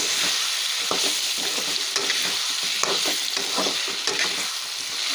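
Dried shark fish sizzles steadily as it is stir-fried in a pan with spice paste for a thokku, with a continuous loud hiss and scattered scraping stirs throughout.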